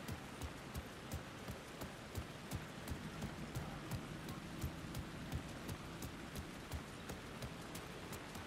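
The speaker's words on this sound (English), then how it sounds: "I can't see any water splashing with the rain." Steady rain in the Alan Wake 2 video game falls as a soft, constant hiss, with scattered sharper drip and patter ticks repeating throughout, fairly quiet and without talk.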